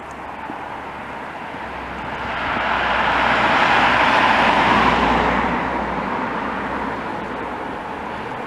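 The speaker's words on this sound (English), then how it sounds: "Despite the sound of the traffic, and there isn't really a lot of traffic, it's a very quiet morning." Light road traffic on a quiet morning street, with one vehicle swelling louder as it passes mid-way and then fading back into a steady, soft background rumble. No voices.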